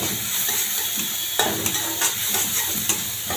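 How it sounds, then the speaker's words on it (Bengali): Garlic paste frying in a pan, a loud continuous sizzle with occasional stirring scrapes and spatula knocks, close up and without talk. "আমার রসুনটা ভাজা ভাজা হইতেছে।"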